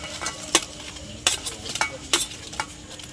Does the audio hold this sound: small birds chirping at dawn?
no